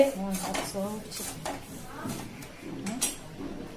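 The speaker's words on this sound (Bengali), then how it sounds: "কড়াইয়ের মধ্যে একটু নাড়াচাড়া করে নিলাম লবণটা পড়ে যাওয়ার জন্য" Salt being stirred in a hot wok for dry-roasting puffed rice without oil or sand, giving scraping and clinking metal sounds in irregular bursts, close by, with a faint voice in the background.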